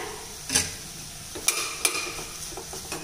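Cauliflower and coriander being stirred with spices in a frying pan over a medium flame: a few sharp scrapes and clinks of a spoon against the pan over a quiet sizzle, no talking.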